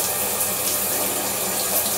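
Water runs loudly and steadily from a tap into a sink while a Gillette body razor is rinsed, a continuous close splashing rush with no pauses.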